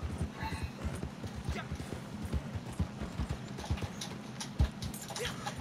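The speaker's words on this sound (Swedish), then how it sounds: "Jag fångade en vild häst redan." In a video game, a wild horse's hooves clip-clop in a quick, steady rhythm, staying close and moderately loud while players talk over it.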